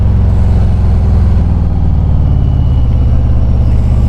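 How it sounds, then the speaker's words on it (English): Harley-Davidson Street Glide, a 2020 model with a Milwaukee-Eight V-twin, rumbles at close range with a loud, steady, throbbing low engine note that holds with no voices for the whole stretch. "these new Milwaukee-Eight sound way different"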